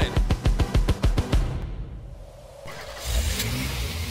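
A Lexus car engine starting: a quick, loud series of starter cranks, about ten rhythmic pulses, then the engine catches and settles into a steady idle nearby.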